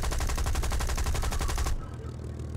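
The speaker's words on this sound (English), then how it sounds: "I'm going to fire off some rounds and see where it actually converges at, if it does at all." Rapid machine gun fire from an aircraft in the War Thunder video game, a dense steady burst of rounds lasting under two seconds, then stopping abruptly to a low engine drone.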